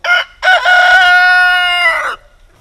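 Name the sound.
rooster crowing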